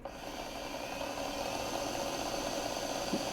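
A small micro drill press motor for watch repair runs steadily at moderate speed, a continuous close whirring hum with light high-pitched whine and faint rattle, alone.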